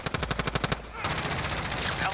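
Rapid gunfire from a minigun in the shooter game Warzone, a fast, loud rattling burst of evenly spaced shots that then blurs into a continuous roaring stream.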